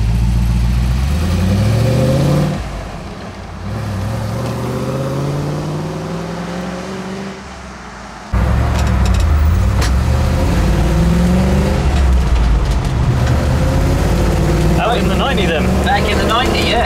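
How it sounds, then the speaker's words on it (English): A loud Rover V8 engine runs steadily with a deep rumble and shifting pitch as it revs, dropping briefly before picking back up. "Engine in and everything running smoothly now, all 8 cylinders performing well."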